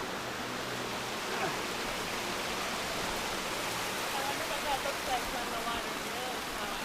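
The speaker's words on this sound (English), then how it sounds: "Probably a crazy waterfall." A waterfall near a hammock campsite in Thornton Hollow gives off a steady, broad rushing roar with no break. A faint voice is heard briefly beneath it.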